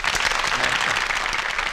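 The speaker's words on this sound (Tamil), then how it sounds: "இங்கே கைத்தட்ட சொல்றா." Dense, loud audience clapping at a Tamil public gathering, a sustained wall of many hands applauding without pause.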